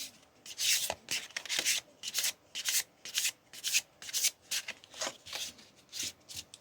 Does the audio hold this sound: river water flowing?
no